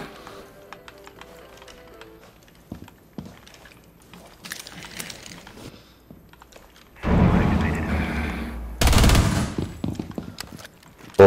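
Gunfire in the tactical shooter Rainbow Six Siege: after a quiet stretch of light clicks and taps, two loud, dense bursts of automatic fire rattle close by, separated by a brief pause.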